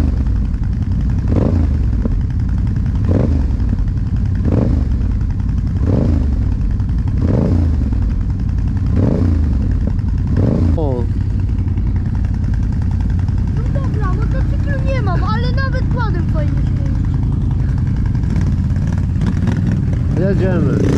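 A Yamaha MT-07 motorcycle engine rumbles close and loud, with a series of regular revs early on, then smoother running, while people talk over it.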